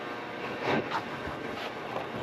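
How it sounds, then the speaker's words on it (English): Loud heating system running inside an auction building, a broad steady roar and rumble filling the room with a few faint bumps and no speech. "It's really loud in here with the heat."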